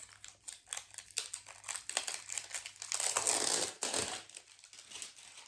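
Tightly wrapped cushion covers being unrolled from foam rollers and freed from sticky tape, with close, quiet crinkling and crumpling of wrapping in short irregular bursts, with one louder rustle midway.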